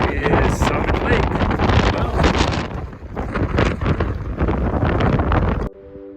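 Strong wind gusting across a mountain ridge near Summit Lake in the Hoover Wilderness, a loud, continuous buffeting roar pressing on the microphone that cuts off abruptly near the end.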